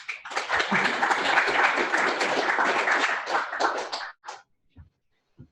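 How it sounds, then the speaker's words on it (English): An audience claps for a presenter at a JavaScript meetup, a dense burst of applause lasting about four seconds before trailing off into a few scattered late claps. "if we should give snaps then, or like little claps to our presenter, Stephen Hicks."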